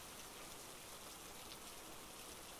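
Rain pours in a constant, gentle wash of droplets, quiet but unbroken from start to end, with no one speaking.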